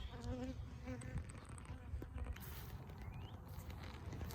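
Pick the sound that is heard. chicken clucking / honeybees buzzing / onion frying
honeybees buzzing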